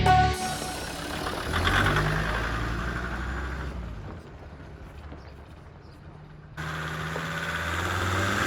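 A rebuilt Land Rover Defender 90 drives around a farm, its engine a steady mid-pitched drone that swells and eases as it moves, with a quieter stretch midway before picking up again.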